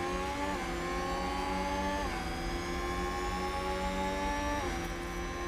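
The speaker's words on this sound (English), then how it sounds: "Whenever you get a red flag, there's this weird engine rumbling noise in the background." Low engine rumble during a red flag in the F1 Manager 2022 racing game, a steady droning tone with slight pitch dips, continuous and even in level throughout.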